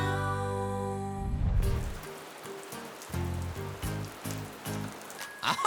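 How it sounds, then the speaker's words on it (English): Rain falling outdoors in a children's dollhouse cartoon, a steady patter of drops hitting a surface after a brief musical tone fades, with a few thumping sounds along the way and no talk. "I'm not going out in the rain."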